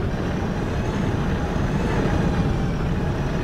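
Diesel railcar engine in the Diesel Railcar Simulator video game, a continuous droning rumble with a steady, even level and no talk over it.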